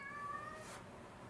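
A single cat meow, fairly faint and close, with a drawn-out tonal cry over a quiet background.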